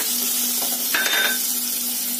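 Capsicum, onion and tomato with tomato ketchup sauté briefly in a pan for macaroni, a steady sizzle with a short metallic scrape of stirring midway.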